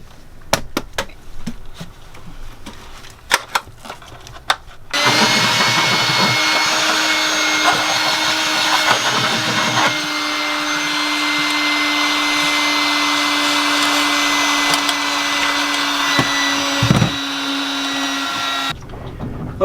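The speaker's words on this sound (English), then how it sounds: "Do you know where the vacuum is? The little one?" A small vacuum cleaner runs steadily for about fourteen seconds in a boat engine room during a Lugger/Northern Lights PTO clutch repair, switching on abruptly after some clatter and stopping at the end, loud and close.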